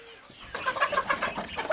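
Layer chickens on a poultry farm clucking, several close, soft overlapping clucks and murmurs that start after a brief quiet moment and keep going in an uneven rhythm.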